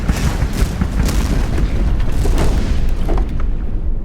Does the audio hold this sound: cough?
no